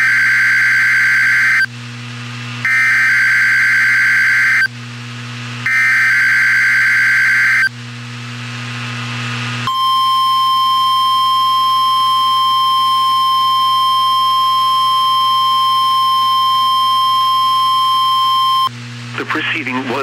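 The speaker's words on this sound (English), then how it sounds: "was a test of the warning alarm system of National Weather Service radio station WXK 91 in Topeka, Kansas" A required weekly test of the warning alarm on National Weather Service NOAA weather radio station WXK 91 in Topeka, Kansas. Three loud, evenly spaced warbling beeps lead into a long, steady, piercing test tone, and a brief burst of speech follows at the end.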